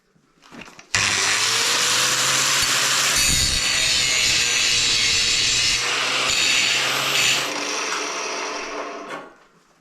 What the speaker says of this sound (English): I need to grind off the rust.